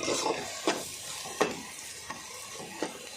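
Fish curry ingredients stir-frying in a pan for vanakaya chepala pulusu, a steady soft sizzle broken by four or five sharp scraping stir strokes at regular intervals, close and moderately loud with no talking.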